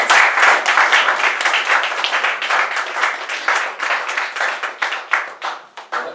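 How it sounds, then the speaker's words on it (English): A comedy club audience at Comedy Off Main St claps for an arriving comedian, dense applause that stays loud and close before gradually thinning into scattered claps toward the end. "So give him a big round of applause."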